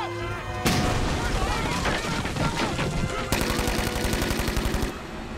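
Heavy gunfire rattles through a village sweep in a war-set TV drama, rapid machine-gun bursts and overlapping shots in dense, loud volleys, with a brief pause before another sustained burst of fire.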